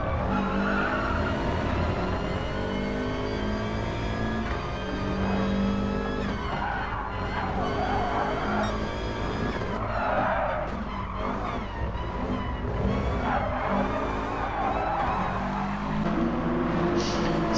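Race cars, one of them a Subaru, lapping Brands Hatch in a championship race. Several loud engines roar and drone continuously, with rising and falling revs as the cars pass close by.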